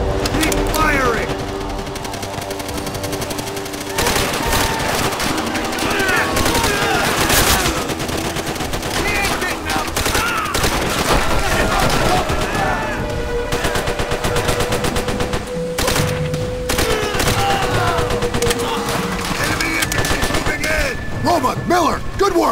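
Sustained machine gun fire in the World War II shooter Call of Duty: World at War, loud and continuous bursts mixed with explosions and battle noise, with soldiers shouting over the gunfire.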